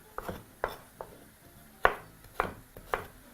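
Knife julienning carrots on a board: six or seven sharp, separate chops at an uneven pace, close and fairly quiet, no voices.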